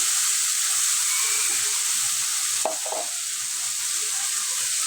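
Ginger, onion and garlic paste with chili masala sautéing in a pan for a fish, potato and kakrol curry, a steady close sizzle and hiss with a brief stir scrape midway, no talk.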